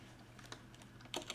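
Keys clack on a computer keyboard while HTML code is typed, a quick, uneven run of light, close taps that grows briefly louder near the end.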